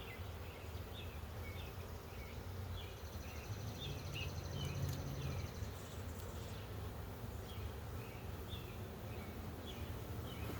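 Honeybees packed on a hive frame during an inspection, a loud, continuous low buzzing hum that holds steady throughout, with no voices.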